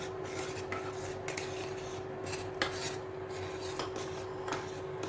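A spoon scrapes and stirs rice flour into hot water in a pot for ukadiche modak, giving a steady rasping, scraping texture with light metallic clinks, close and continuous.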